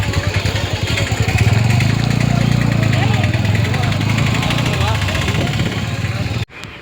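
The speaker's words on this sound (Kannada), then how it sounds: "ಬೈಕ್ ಬಂತು ಗೈಸ್, ಮುಂದೆ ಹೋಗ್ತವೆ." Motorcycle engine running steadily close by during a pilgrimage walk to MM Hills, a low continuous rumble that holds for about six seconds and then cuts off abruptly, with talk over it.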